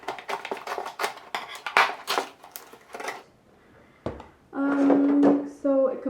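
Unpacking a self-watering Lechuza plant pot from its packaging, with rustling, knocking and handling noises, short scrapes and a sustained tonal squeak near the end, mixed with a person talking.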